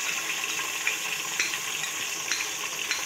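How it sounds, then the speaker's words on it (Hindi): Onion sizzling in hot oil with ginger garlic paste while cooking vegetable rice, a steady crackling hiss with occasional small pops and stirring clinks, close and alone. "अदरक लहसुन का पेस्ट भी हमने डाल के भून लिया"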